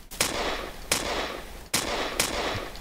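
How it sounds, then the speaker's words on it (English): Rapid bursts of video game gunfire, four sharp loud volleys spaced under a second apart, each trailing into a dense crackling wash like bullet impacts, with no voices. "You can see that they're shooting and you can see the bullets hitting them both"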